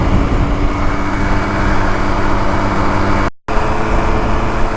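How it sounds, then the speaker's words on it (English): MV Agusta Rivale 800 motorcycle engine droning loudly and steadily while riding, with a brief dropout near the end. "Beautiful sounding bike."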